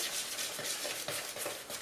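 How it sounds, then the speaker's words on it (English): Knife stirring milk into scone dough in a bowl, a steady, soft scraping and swishing with a few slightly louder strokes, close and continuous with no talking. "then I'll stir it around using the knife that I used to butter my bread."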